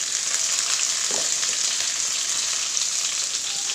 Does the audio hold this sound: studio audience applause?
no